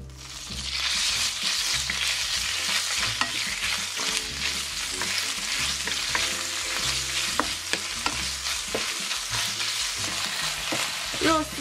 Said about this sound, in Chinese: 开火先煸炒肉丝，那用猪油最香